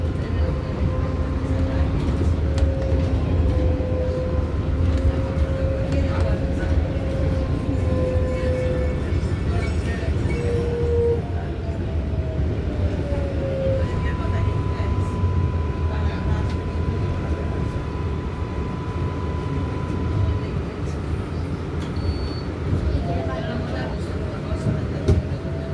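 An R188 7 skip-stop subway train on the way to Flushing–Main Street, with a steady rumble of wheels on track and motor whine rising and falling throughout the ride, and automated voices announcing on board.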